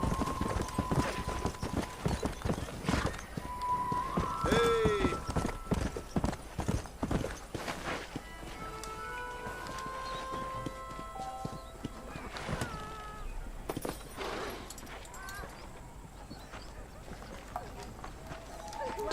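A horse clip-clops along in the Red Dead Redemption western video game, its hooves thudding in a steady trot with a whinny partway through, under a voice talking and faint in-game sounds.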